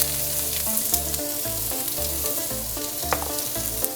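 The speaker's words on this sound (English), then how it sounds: "And now we're gonna cook our onions." Onions sautéing in a pan of bacon fat and olive oil hiss with a continuous close sizzle and occasional crackles over a pulsing low background, with no voices.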